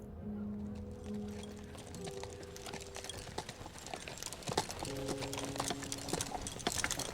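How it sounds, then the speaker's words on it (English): Two rented horses' hooves clip-clop at a moderate, uneven pace, faint and somewhat distant, with soft background tones and no clear talking. "We rent 2 horses and ride up to Winter Manor."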